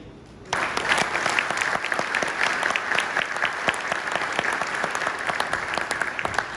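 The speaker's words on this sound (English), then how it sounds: "One more round of applause." A conference audience breaks into sustained applause after a speech, dense and steady clapping starting abruptly and carrying on loudly throughout.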